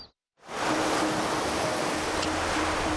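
Steady broadband surf rushes in after a brief silent start, ocean waves washing onto a beach on Reunion Island in the Indian Ocean, loud and continuous with no voices.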